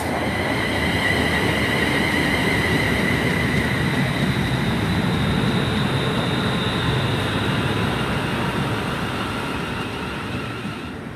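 A London Midland Class 350 electric train pulls into Coventry station on a terminating service from Birmingham New Street, a loud continuous rumble with whining, squealing tones from the wheels.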